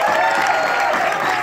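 Theatre audience applauding actors at a stage comedy's anniversary performance, a steady dense wash of clapping from a full house that holds evenly throughout.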